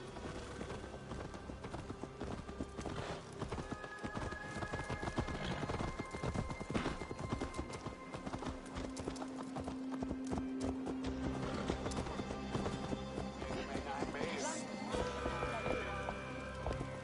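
Horse hooves clip-clopping in Assassin's Creed Valhalla, a steady trotting rhythm running throughout amid game music and ambient sound, with occasional neighing and voices speaking over it.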